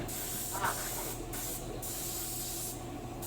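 Gear oil is sprayed under pressure onto a van chassis during an underwash, giving a continuous hissing spray. The spray stops briefly now and then with short gaps and comes back, heard up close with no talk.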